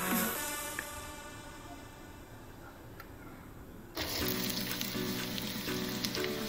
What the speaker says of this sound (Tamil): அதை சிறிதாக வெட்டிய வெங்காயம் போட்டு தாளிக்கவும்.